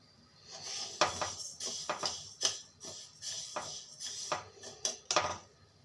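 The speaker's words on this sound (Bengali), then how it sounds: "এখন লাল করে ভালো করে ভেজে নেব।" Mung dal is dry roasted in a wok, with a spatula clinking and scraping against the metal in irregular, sharp strokes, close and moderately loud.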